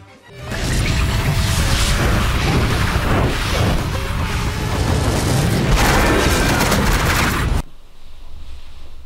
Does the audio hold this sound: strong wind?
no